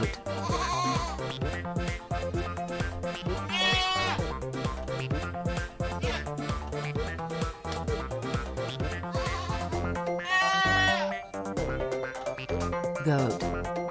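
Goat bleats rise every few seconds through loud, steady upbeat music that plays throughout, each cry wavering and partly buried in the backing track.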